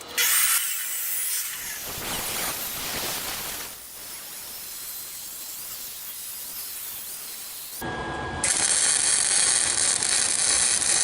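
A steel patch being cut for a welded repair: a loud, steady hissing, grinding rasp that runs continuously, shifts in tone partway through and grows harsher toward the end, with no voices.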